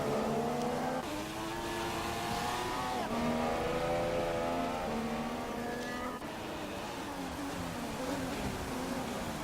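Race car engines revving and accelerating through the gears in a racing game's Canadian Grand Prix, a steady loud drone of rising and falling engine pitch with overlapping cars, no talk.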